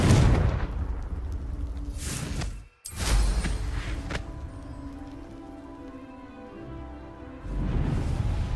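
A Confringo explosion spell in a Harry Potter video game: a loud, broad roaring blast that cuts to a brief silence, then bursts again and settles into a sustained hissing rumble before swelling once more.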